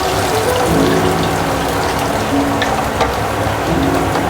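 Chopped ginger fries in hot oil with tempering spices for a masoor dal, giving a steady, dense, rain-like sizzle throughout while it is stirred in the pan.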